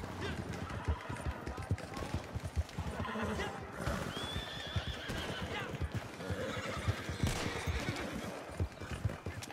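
A horse whinnies loudly over steady hoofbeats and clattering gear in the video game Red Dead Redemption 2, the neigh rising clearly above a dense, busy background.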